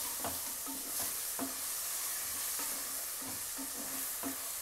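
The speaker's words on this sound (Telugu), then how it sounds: "మీరు మీడియం ఫ్లేమ్లో పెట్టుకొని వేయించుకోండి." Whole spices for bagara rice fry in hot oil on a medium flame, a constant crackling sizzle broken by a regular series of scraping stirs from a spatula, close and clear with no talking.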